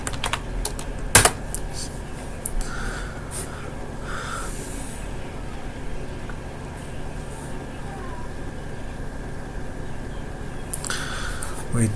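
A username and password are typed on a computer keyboard, a quick run of close key clicks with a few louder taps and pauses, while a person speaks over it.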